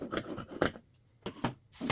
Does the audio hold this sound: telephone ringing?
no